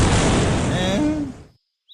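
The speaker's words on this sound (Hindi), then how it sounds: "जोरदार धमाका होता है।" A loud landmine blast goes off on a road, a single heavy boom that swells and then decays into silence within about a second and a half.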